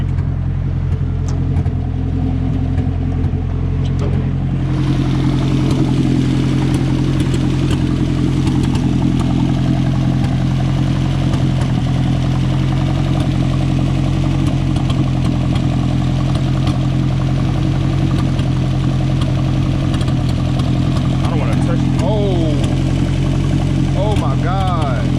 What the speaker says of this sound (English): Sound like an exhaust leak.